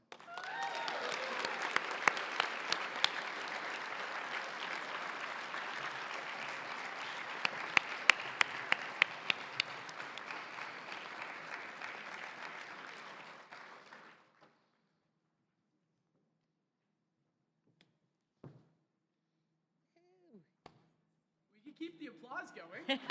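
A room applauds the winner of a startup pitch competition. Steady, moderately loud clapping runs for about fourteen seconds and then stops abruptly, leaving near-silence until a brief voice and faint sounds near the end.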